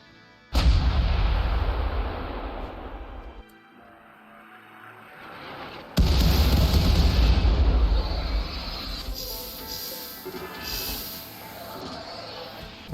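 An auto-mortar fires artillery in RimWorld, giving heavy booming blasts with long rumbling tails. Two big bursts stand apart with a quieter lull between them, loud and near.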